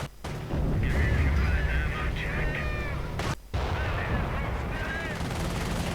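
Anti-aircraft flak guns pound away in a real-time strategy war game, a dense, continuous barrage of booming shots with a brief gap midway, while a voice talks over the battle.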